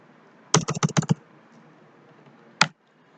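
Quick burst of about eight crisp keystrokes on a computer keyboard while entering an Excel formula, followed after a pause by one final firm key press, close and clear with no talking.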